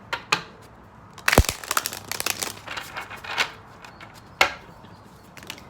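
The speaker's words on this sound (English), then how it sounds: "I'm just gonna shuffle really, really well here" A brand new deck of tarot cards being shuffled nearby, with crisp riffling bursts and clattering flicks arriving in irregular clusters over several seconds, no voices.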